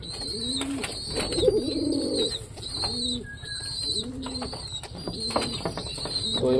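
Pigeons coo in a soft, rolling rhythm close by, repeating every second or so over a steady background hiss, with no talking.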